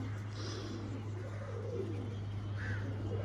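Pigeons coo softly in a pigeon shop, a few low murmuring calls over a steady background hum, with faint voices nearby.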